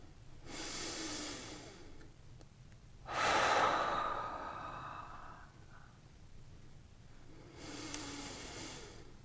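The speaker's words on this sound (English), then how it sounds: "Just breathing." Slow, deep breaths during a guided meditation: a soft inhale, a stronger forceful exhale that trails off, then another gentle inhale several seconds later, close and quiet with no talking.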